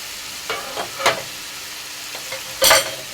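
Spices, including garlic powder, ginger and paprika, go into a hot frying pan with a soft sizzle, then several scraping stirs and clatters come in short bursts, close by and fairly quiet.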